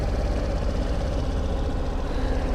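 Suzuki Burgman Street 125 scooter idling quietly just after starting, a steady low mechanical hum that stays even and close throughout, with no talking.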